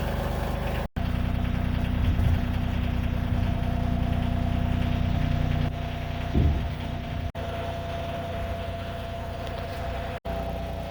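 A tractor engine idles and runs steadily at close range while a heavy LVL beam is lowered during an earth berm house beam removal, with brief dropouts and a slight surge midway.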